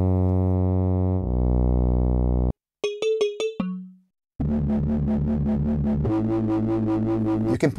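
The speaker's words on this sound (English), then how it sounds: "You can put effects on top of the audio chain, reverb, filter, chorus, delay echo, and distortion" Synthesizer tones with a chorus effect, then a few bright plucked notes ringing out, followed by a gritty, distorted synth riff pulsing steadily, from the Diapasonix electronic instrument with Juno 6 and DX7-based presets.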